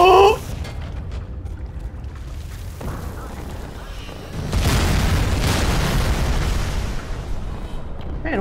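Explosions in the video game Crysis Remastered: a deep boom rolls out, then a louder, sustained rumbling blast swells midway and carries on to the end, with a player's voice talking over parts of it.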